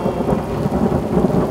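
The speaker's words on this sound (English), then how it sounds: "if it's a big rainstorm, they're hitting the soil with a lot of impact." A heavy thunderstorm pours dense, steady rain, with a low rumble of thunder rolling beneath the loud hiss of downpour throughout.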